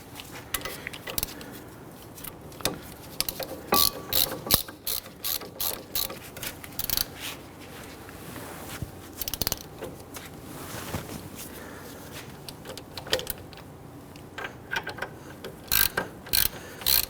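A ratchet snugs down the front brake caliper bolts on a 2011–2015 Kia Sorento, giving rapid metallic clicking in repeated bursts throughout, close and fairly loud, with no talking.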